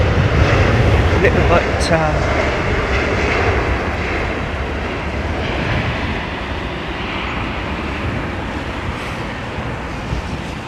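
A passenger airliner comes in to land at London Heathrow in strong gusty wind, its loud, sustained engine roar and wind rumble filling the scene, with voices faintly talking underneath.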